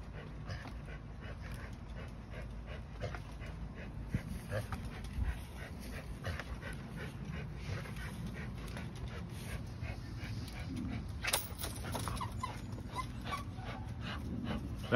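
A dog whimpers and pants close by, with soft breathy sounds repeating through a steady outdoor background and occasional brief voices.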